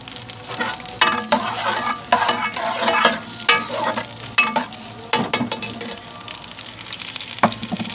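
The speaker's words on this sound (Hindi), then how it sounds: "अब इसमें प्याज डाल देंगे," Onions frying in a couple of spoons of hot oil crackle and sizzle loudly while a spoon scrapes and stirs them in irregular bursts, close up with no talking.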